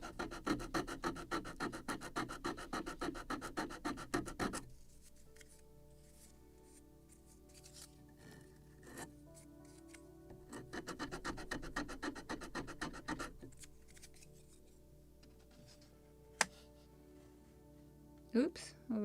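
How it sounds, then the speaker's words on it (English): Sandpaper rubs back and forth along a small wooden deck plank on a model gunboat kit, a close, rhythmic rasping in two bursts of strokes separated by a quieter pause with faint clicks. "Just sand middle part, or in the middle of this plank."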